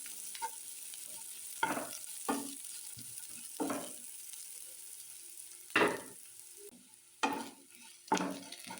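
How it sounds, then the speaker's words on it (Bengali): Chopped onions frying in a pan for palak paneer, a soft sizzle broken by several sharp spatula scrapes and stirring strokes at irregular intervals, close and fairly quiet. "ভালো করে পেঁয়াজটা ভাজতে হবে।"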